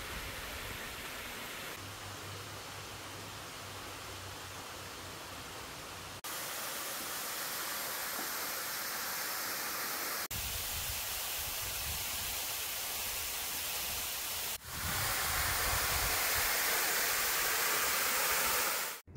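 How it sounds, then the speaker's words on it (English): A waterfall in Guatemala heard from near its base, a steady broadband rush of falling water that stays constant and loud, shifting in tone between a few cut segments with no voices. "I spot the waterfall in the distance and make my way down to its base."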